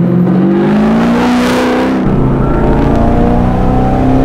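A 725 hp supercharged LS9 V8 in a 1971 Camaro restomod pulling away, with a loud, close engine rising in pitch as it accelerates, then settling into a steady, heavy drone.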